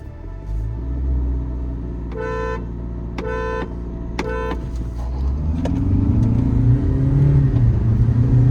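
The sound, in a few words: Kia Seltos and Honda Elevate accelerating in drag race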